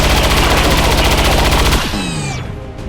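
Elite gunner gunfire in XCOM 2, a loud rapid burst of automatic shots in a fast regular rhythm, cutting off abruptly into ringing echoes and a fading mechanical whine.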